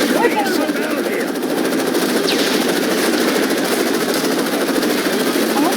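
Rapid sustained machine gun fire in the video game Call of Duty: Modern Warfare 3, dense and loud with continuous bursts, layered with battle noise and voices.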